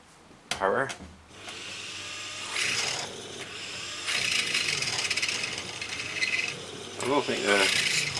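A power drill fitted with a pilot bit bores into a workpiece in whining bursts of several seconds with short stops, under a person talking.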